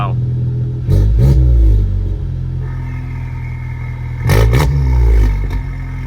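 Volkswagen MK7 engine revving with its exhaust valves open, two loud close rev bursts rising and falling over a steady idle rumble.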